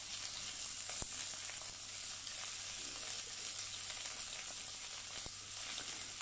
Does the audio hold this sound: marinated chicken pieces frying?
yes